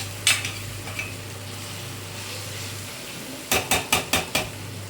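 Tomatoes are mashed and stirred into a simmering fish curry in a pan, a faint steady bubbling broken by a quick series of five sharp spoon knocks near the end.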